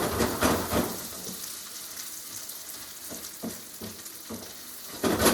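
Gnocchi sizzle in a pan with butter, garlic and Parmesan while being stirred, a steady close frying hiss broken by soft scraping and rhythmic spoon strokes, louder bursts at the start and end.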